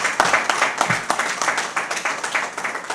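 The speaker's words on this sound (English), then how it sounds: "How about a round of applause for Christina App?" An audience claps in appreciation at a preservation gathering for St. Ann's in Buffalo, NY, with steady, dense applause filling the room throughout.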